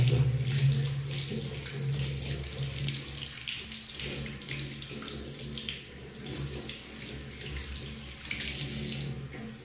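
Hot water runs steadily from a tap in a guest room washroom in Diskit, Ladakh, a continuous close splashing stream into the basin that lasts throughout with no talk.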